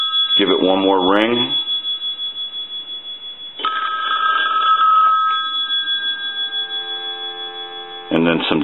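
A person talks briefly, then a payphone bell box rings loudly and steadily for several seconds, followed by a short burst of speech.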